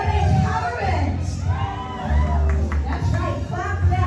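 A comedy club audience cheers and whoops loudly, with shouting voices and the rumble of a crowd, as a voice talks through the noise.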